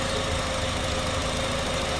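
A replaced 2.4-liter engine in a Honda Accord runs at a steady idle, a continuous even hum with a faint rhythmic ticking, close and alone with no talk.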